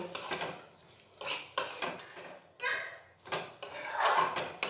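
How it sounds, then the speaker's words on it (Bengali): A spoon scrapes and knocks against a pot in irregular bursts while spices with Kashmiri chilli powder are sautéed for a vegetarian winter khichuri. "এবার ওতে দিয়ে দেব কাশ্মীরি লঙ্কা গুঁড়ো। দিয়ে আরও 2 মিনিট একটু কষিয়ে নেব।"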